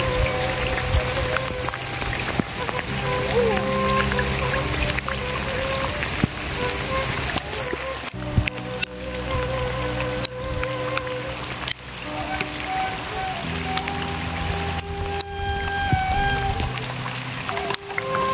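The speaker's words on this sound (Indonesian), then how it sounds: "Hujan." Steady rain falls throughout, a dense continuous patter of drops on surfaces with a hint of pouring water, holding a fairly even level while tonal background sounds run underneath.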